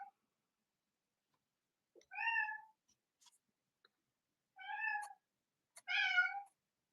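A cat meows three times indoors, short clear calls spaced a couple of seconds apart in an otherwise quiet room, the last one longest and loudest.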